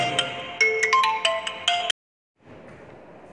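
A melodic phone ringtone plays loudly for a couple of seconds, then cuts off abruptly, leaving faint background hiss.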